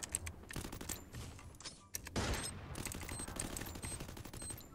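Rapid gunfire in the mobile shooter Free Fire Max, a dense crackle of overlapping shots that grows heavier and nearly continuous in the second half, with a sharper burst near the middle.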